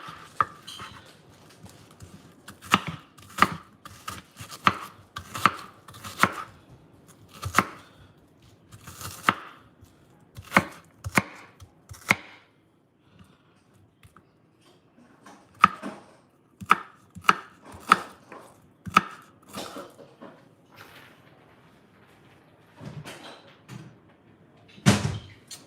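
Sharp knife chops through onions on a cutting board in bursts of rapid, close, crisp strikes, pausing between runs, with no talking.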